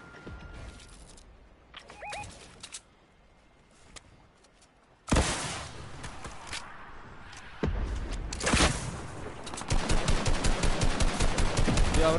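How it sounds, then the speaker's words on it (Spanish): Gunfire rings out in a Fortnite Arena-mode match, with scattered shots early on and then loud, sustained rapid bursts that keep repeating toward the end. "Cuidado, bro, me disparan."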